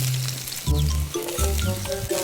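Onion goes into a pan of toasted garlic and sizzles loudly and steadily for about two seconds. The frying surges as the pieces land, and a few brief tonal sounds rise above it.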